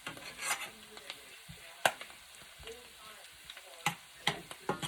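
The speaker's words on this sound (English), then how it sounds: "And to stir the mushrooms." Mushrooms frying in butter sauce are stirred with a spoon, giving soft sizzling under scattered clicks and scrapes, with a few sharper knocks of utensil against the pan.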